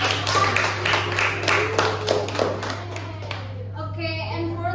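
Classroom students clap together in a dense, close burst of applause lasting a few seconds, with a steady hum underneath, tapering off as a voice begins speaking at the end.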